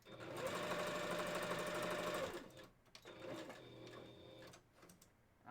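A sewing machine stitches through fur fabric in a fast, buzzing run for about two seconds, stops briefly, then runs again in shorter bursts, with no talking.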